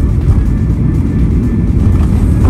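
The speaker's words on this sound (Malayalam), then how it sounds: "ആ മഴയത്ത് നമ്മുടെ ഫ്ലൈറ്റ് ഇവിടെ ലാൻഡ് ചെയ്തിരിക്കുകയാണ്." Steady, loud low-pitched rumble inside an S7 Airlines passenger jet just after landing in Moscow in rain. The engine and cabin noise is broadband and continuous, with no talk.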